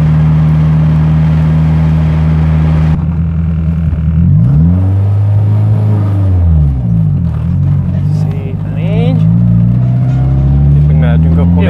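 Nissan Silvia engine running, a loud steady low rumble with strong vibration through the engine mounts, shifting in pitch as it revs; voices talk over it.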